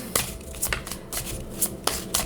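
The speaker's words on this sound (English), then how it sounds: "I need to shuffle the tarot deck and start with oracles" A tarot card deck being shuffled by hand, with repeated crisp riffling bursts in an irregular rhythm, close and fairly loud, with no speech.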